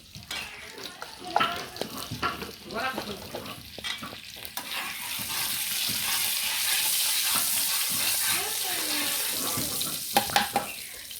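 Oil sizzles in a wok-style pan seasoned with salt and turmeric, with stirring clatter and scraping up front settling into a steady frying hiss, a few utensil knocks near the end.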